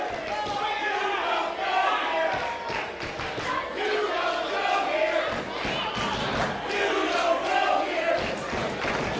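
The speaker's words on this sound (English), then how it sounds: "this crowd letting Delmi Exo know they don't care for her very much" Wrestling crowd at a live tag-team match jeers and boos a heel competitor, a loud sustained roar of voices with shouts and scattered thuds filling the arena throughout.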